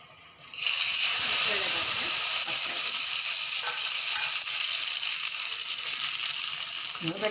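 Hot mustard seed and dried red chilli tempering is poured into boiling foxtail millet bisi bele bath, setting off a sudden loud hiss that holds as a strong, steady sizzle close by.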